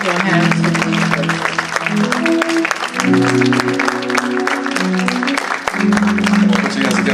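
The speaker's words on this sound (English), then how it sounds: "Clap your hands for Jesus as our pastor comes forth" Church congregation claps for Jesus as the pastor comes forward, rhythmic hand claps running under loud organ or keyboard chords and voices, steady and close throughout.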